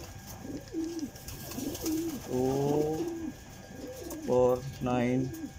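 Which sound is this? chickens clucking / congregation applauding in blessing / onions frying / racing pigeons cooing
racing pigeons cooing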